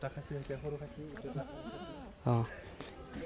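A castrated local goat bleats in short wavering calls, then lets out a louder, sharper bleat near the end, with soft background noise between.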